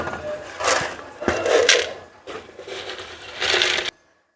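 Mixer grinder whirring in bursts as it grinds turmeric, onion and coconut, several loud grinding runs separated by short pauses, then cutting off abruptly.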